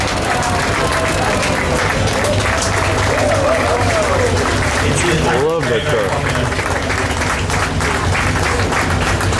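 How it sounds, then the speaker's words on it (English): Steady applause from the audience at the 2017 Concorso d'Eleganza Villa d'Este classic car show, greeting a restored 1934 car, continuous and dense throughout, with a voice speaking over it. "Absolutely a well-deserved round of applause."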